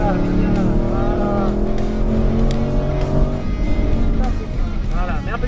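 A 436-horsepower Aston Martin Vantage engine accelerating on the Ferté Gaucher race circuit, a loud sustained close engine drone rising and shifting in pitch, with someone talking over it.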